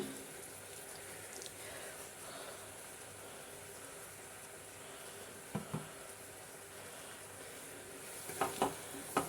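Nendran banana slices with jaggery and cardamom sautéing in a pan give off a soft, steady sizzle with faint stirring scrapes, and a few sharper clinks near the end.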